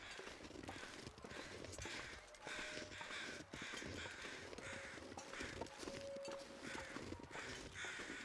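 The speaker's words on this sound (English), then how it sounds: "And the crows aren't helping any." Crows cawing in the video game The Long Dark, repeated harsh caws scattered over a low wind-like ambience, faint and somewhat distant.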